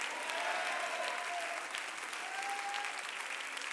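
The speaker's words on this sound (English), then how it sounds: "if you believe it, clap your hands and shout amen." A church congregation claps and cheers during a sermon, dense, steady applause filling the space with a few raised voices or shouts standing out over it.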